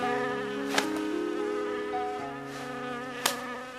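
Mosquitoes buzz in a steady, close, wavering whine that keeps going the whole time, broken twice by short sharp claps from swats, with no voices.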